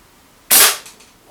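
A single sharp, loud crack from a Mad Max Contender break-top gas pistol fired at a target, with a brief fading tail and no talk.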